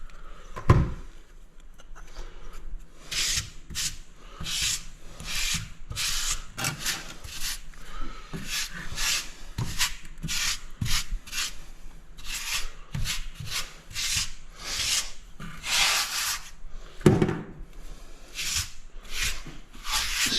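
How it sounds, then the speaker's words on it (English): A float or squeegee drags grout across textured tile in a long series of rapid scraping, rubbing strokes, close and steady, with no talking. "Squeegee it off the best you can."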